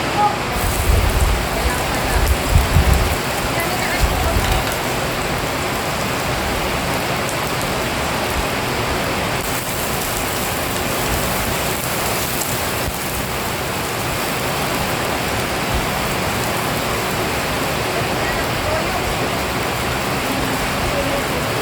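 Onions sizzle in a pan for adobong sitaw with a steady hissing crackle, with a few louder stirring scrapes near the start.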